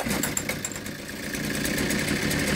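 A Ryobi 410 cultivator's small engine runs just after starting, a close, rough, steady putter with no one speaking.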